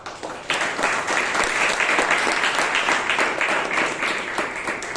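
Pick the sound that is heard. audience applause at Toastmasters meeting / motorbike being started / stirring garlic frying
audience applause at Toastmasters meeting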